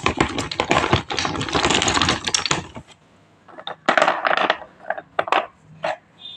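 Broken slate pencil cubes are scooped and shaken while being packed, giving dry, brittle clattering and rattling in dense bursts, then scattered shorter crunchy clicks after a brief pause, close up.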